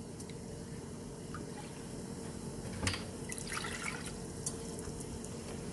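Apple cider vinegar poured into a cup for canning eggplant in olive oil, a quiet steady trickle of liquid with a few small splashes, heard close under a faint background hum.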